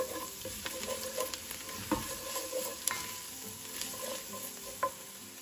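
Carrots tipped into a hot pan and stirred, giving a steady low sizzle broken by scattered clicks and scrapes of utensil on metal, close and moderately quiet, with no talking.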